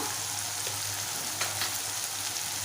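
Ginger garlic paste frying with softened tomatoes in a pan for spicy prawn rice, a steady close hiss of sizzling oil running throughout with no speech.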